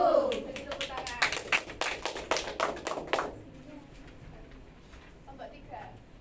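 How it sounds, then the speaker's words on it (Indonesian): Classroom clapping in a micro-teaching lesson, a short burst of fairly close, irregular hand claps that fades out after about three seconds, leaving quiet room noise with faint voices. "Beri tepuk tangan."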